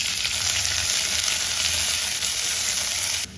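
Onion frying in hot oil with mustard seeds, cumin, dried red chilli and curry leaves for a lentil dish, a steady, loud, close sizzle that holds throughout and drops off abruptly at the very end.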